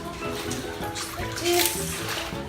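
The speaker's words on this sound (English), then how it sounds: "you're going to put it in the first banlaw, which is the first bucket here, and just kind of want to wash it a little bit again" Clothes are hand-washed in a bucket of water, with soft continuous sloshing and trickling up close and a brief splash midway.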